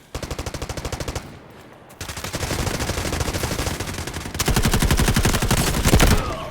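Rapid automatic gunfire in the Delta Force mobile shooter game comes in loud sustained bursts with a brief pause between them, the shots crisp and close.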